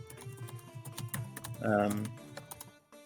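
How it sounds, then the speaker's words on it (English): Rapid keyboard typing clatters throughout, a dense run of sharp clicks and key taps, while a voice speaks briefly over it partway through. "I can hear your typing when you were typing super loud"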